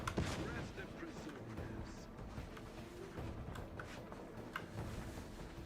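Enemies fire on the player in the Outer Worlds 2 video game, producing repeated gunshot bursts and booms over a steady background of game noise and music, with no pause in the exchange.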